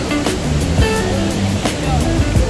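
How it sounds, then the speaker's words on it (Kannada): Mallalli Falls in Kodagu roars as a steady, loud wash of rushing water heard from a hilltop viewpoint, with people talking over the constant noise. "ಅಬ್ಬಿ ಫಾಲ್ಸ್ ಅಲ್ಲ ಮಲ್ಲಳ್ಳಿ ಫಾಲ್ಸ್ ನೋಡೋಕೆ ಬಂದು"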